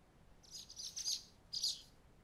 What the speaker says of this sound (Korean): 푸드덕거리는 날갯짓 소리와 짹짹 옅은 새의 지저김이 들리는 거야